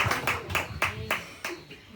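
Several slow, spaced claps at a church service, about six sharp hand strikes roughly a quarter second apart, moderately loud against a faint background.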